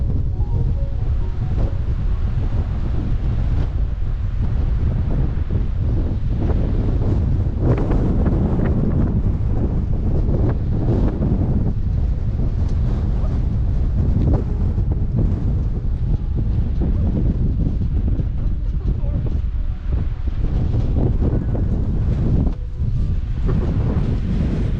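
Strong wind blowing on a walk in Glen Roy, a loud continuous roar and buffeting against the microphone that holds steady throughout with no pauses.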